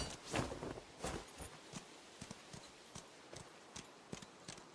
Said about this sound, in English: There's Horsey